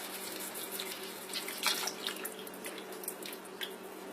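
Skim evaporated milk poured into a cooking pot for chicken and rice soup makes a steady, faint liquid trickle and splash for several seconds, with no talking over it.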